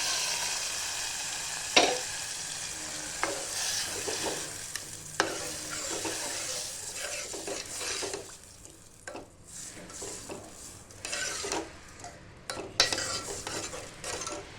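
Cooked fenugreek and moong going into a hot pan, a gentle continuous sizzle broken by sharp spoon clinks and scraping stirs against the metal, close up with no voices.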